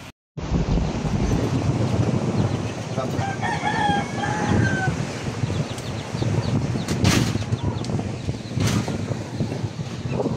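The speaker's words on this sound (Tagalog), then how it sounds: "Ang lakas ng hangin" Strong wind blasts over the microphone with a surf-like roar on the seashore at Rosario, and a rooster crows in the background partway through.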